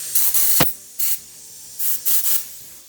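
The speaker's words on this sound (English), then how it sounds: "Make sure when you're using the compressor, you don't" Compressed air from a compressor blasting through small outboard carburetor parts from a 3.3 hp Mercury, in several loud, hissing bursts of varying length separated by short pauses, close up with no talking.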